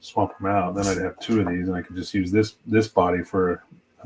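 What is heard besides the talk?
No everyday noise stands out behind the speech.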